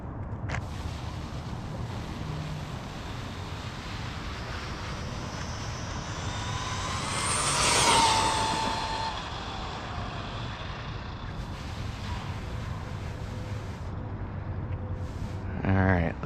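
An Arrma Gorgon brushless RC car on a 3S battery runs a speed test, its whine rising as it passes near, then fading, over a faint outdoor hum.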